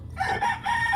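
A rooster crows in a close, loud, sustained call lasting about a second, from a labuyo (wild junglefowl) bloodline kept by a Filipino gamefowl breeder; no talk over it.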